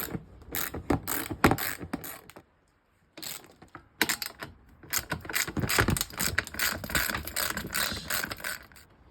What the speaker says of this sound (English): we can start taking the seat off with this 10mm